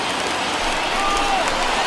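A packed baseball stadium crowd of over 39,000 cheers and applauds on its feet in a 1983 NLCS game between the Dodgers and Phillies with two outs, a dense continuous roar of clapping and shouting throughout, with faint announcer-like voice traces.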